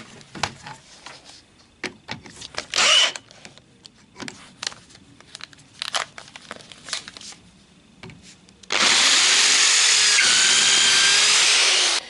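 Two small metal plates are clamped in a vice and drilled to 6.5 mm after pilot holes, during a front seatbelt install on a Citroën Traction 11B. Tool clicks and handling come first, then a loud, steady drill whine runs for several seconds.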